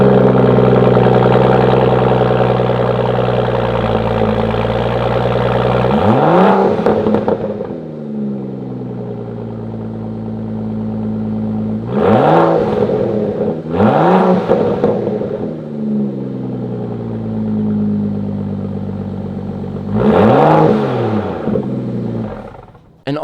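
A BMW 435i with an N55 engine and Borla exhaust idles with a deep, throaty burble, then revs sharply several times, each rev rising to a loud roar before it drops back, close up.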